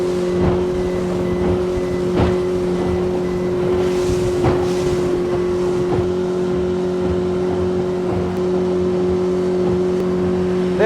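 Steady wind rushes over a river in Kerala before rain, with a constant low motor drone running throughout and no voices.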